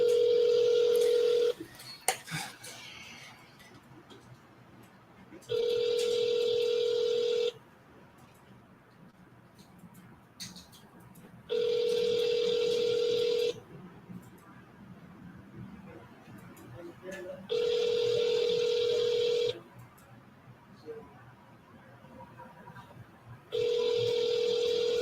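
An outgoing phone call sounds through a handset line: a faint tone, then a repeating ringback tone in regular two-second pulses separated by quiet gaps, five rings in all, low in level.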